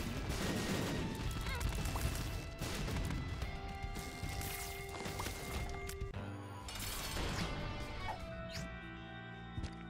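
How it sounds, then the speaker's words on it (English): Video game explosions and crashing blasts from The Binding of Isaac: Repentance burst repeatedly over a busy, continuous game soundtrack, with no talking. "That's where those explosions are coming from."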